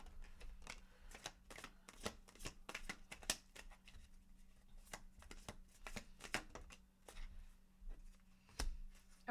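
Tarot cards being shuffled during a reading, a long run of crisp riffling snaps and soft flicks in an uneven rhythm, close and fairly quiet over a steady low hum, with no talking.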